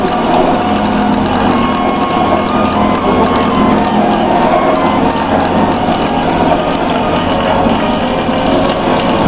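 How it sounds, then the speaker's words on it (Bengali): A manual cream separator machine is hand-cranked, giving a steady, loud, close ratcheting whir of gears that runs on without a break. "এই যে আমাদের ক্রিম সেপারেটর মেশিন।"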